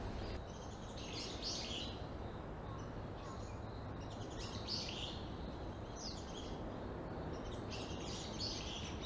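Birds chirping and singing in short bursts during an outdoor morning walk, fairly faint and recurring at intervals over a steady background rumble of wind and ambient noise.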